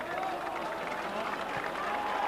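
Crowd noise at a 1989 Great Britain versus New Zealand rugby league test match in Wigan, a steady wash of cheering and applause from a large stadium crowd, broad and sustained, with a commentator's voice over it.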